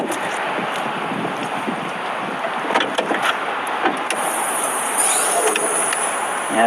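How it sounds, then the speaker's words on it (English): Heavy rain pours steadily around an Audi Q8, making a dense, even hiss broken by scattered drip-like ticks, with a faint high whine joining toward the end. "it is raining a lot"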